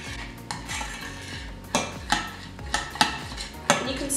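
A spoon stirs titanium dioxide powder into a cake drip mixture, clinking and scraping against the bowl in several sharp knocks over a soft swishing mix, close and alone without talk.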